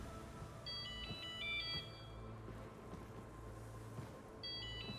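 A flip phone ringtone plays in a video game, a bright electronic melody in two short bursts, one near the start and one at the end, over a steady low rumbling game ambience.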